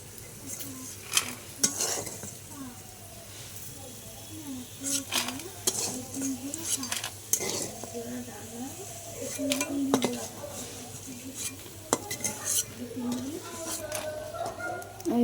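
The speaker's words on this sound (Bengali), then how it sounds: "আমার কাঁঠালের আটিগুলো ভাজা হয়ে গেল" Jackfruit seeds frying in oil in a wok, stirred with a metal utensil, giving repeated scraping clinks over a low sizzle while someone speaks intermittently nearby in a home kitchen.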